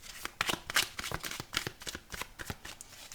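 Tarot cards being shuffled by hand, heard as a quick run of crisp, close riffling and slapping bursts with short gaps between them.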